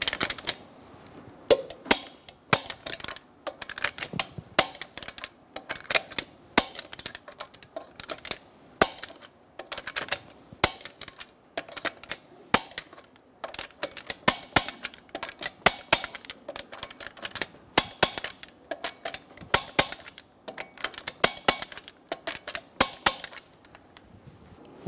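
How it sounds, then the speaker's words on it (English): Torque wrench tightening lug nuts on a Chevrolet Silverado wheel, sharp metallic ratchet clicks in rapid bursts, repeating nut after nut with brief pauses between, close and crisp. "Torque the lug nuts in a star pattern to 140 foot-pounds."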